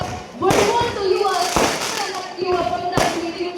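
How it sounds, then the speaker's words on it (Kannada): Firecrackers burst at a Christmas celebration, with several sharp, loud bangs spaced irregularly over a busy outdoor background of crowd noise and talking. "ಪಟಾಕಿ ಹೊಡೆದು ಕ್ರಿಸ್ಮಸ್ ಸೆಲೆಬ್ರೇಷನ್ ಆಚರಿಸಲಾಯಿತು"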